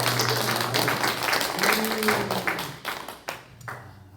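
A church congregation applauds in a worship service, a broad wash of many hands clapping that fades out near the end, with some voices and a sustained tone underneath.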